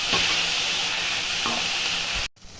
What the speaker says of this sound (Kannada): ಟೊಮೊಟೊ ಹಾಕ್ತಾ ಇದ್ದೀನಿ ಟೊಮೆಟೊ ಒಂದು ಎರಡು ನಿಮಿಷ ಚೆನ್ನಾಗಿ ಬಾರಿಸ್ಬೇಕು